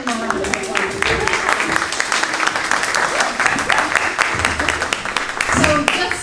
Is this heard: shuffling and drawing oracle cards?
no